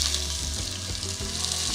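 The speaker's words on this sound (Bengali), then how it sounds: "এখন পেঁয়াজ কুচিটা দিয়ে দিচ্ছি।" Chopped onion frying in oil with a bay leaf for Bengali khichuri, a dense, steady close sizzle with a faint low rumble beneath, unbroken and without speech.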